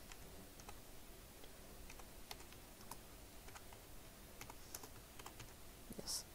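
Quiet typing of a channel name on a computer keyboard, a steady patter of soft key clicks with a slightly louder tap near the end, set against faint room hiss.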